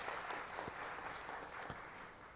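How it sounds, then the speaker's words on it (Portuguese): Quiet applause from the audience at a human rights committee session honoring the public defender's ombudsman, a soft, distant wash of clapping with a few sharper hand claps standing out. "peço uma salva de palmas para a nossa ouvidoria da Defensoria Pública"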